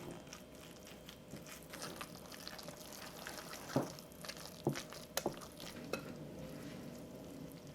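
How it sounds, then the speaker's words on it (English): A whisk stirs a cassava batter with salt and vanilla extract in a bowl, giving soft, continuous scraping and swishing with a few sharper clinks against the side, fairly quiet throughout. "Now I'm going to mix up everything with my whisk."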